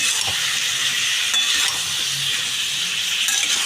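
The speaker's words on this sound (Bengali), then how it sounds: "এক চামচ মতো হলুদ গুঁড়ো, দিয়ে আমি এটাকে ভালো করে কষিয়ে নিচ্ছি।" Dried fish masala with turmeric sautéing in a pan, with a steady sizzle and hiss under occasional stirring scrapes, close and continuous.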